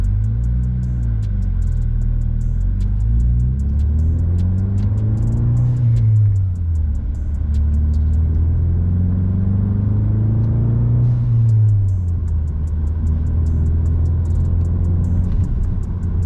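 A stock 2020 Ford Mustang EcoBoost with OEM downpipes and a Circuit Concept Garage catback exhaust gives a deep, steady, close-up exhaust rumble that swells twice as the revs climb and drop, with no talking.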